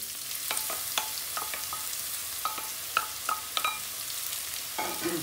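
Diced onion frying in hot oil with cumin and bay leaf while making aloo gobi, giving a constant hiss and crackle with scattered sharp pops and stirring clicks, close and moderately loud.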